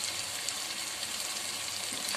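Goat trotters go into a pan of frying masala, setting off a steady, even sizzle that hisses close by with faint stirring and no talk.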